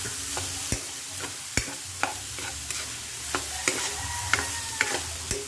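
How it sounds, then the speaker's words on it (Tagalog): Beef papaitan sautéing in a pan, a steady sizzle broken by regular sharp taps and scrapes of a ladle against the pan, close up with no voices. "haluin lang ulit natin igisa-igisa ulit natin"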